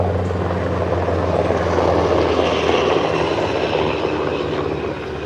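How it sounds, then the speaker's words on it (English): Military helicopter flying overhead, a loud continuous rotor and engine drone with a low throbbing hum that swells and then eases slightly as it passes. "That was like a military helicopter."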